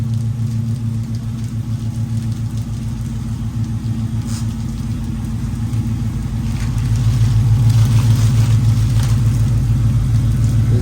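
A car engine idles through a Flowmaster exhaust with a deep, steady rumble, close by, swelling slightly louder toward the end.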